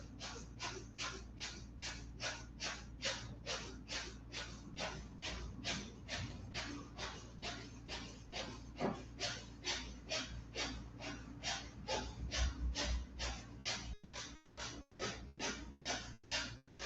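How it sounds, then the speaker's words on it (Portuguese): Breath of fire yoga breathing, a rapid, even series of sharp nasal exhalations, about two per second, close and steady, quickening slightly near the end, with no talking. "começa a respiração do fogo"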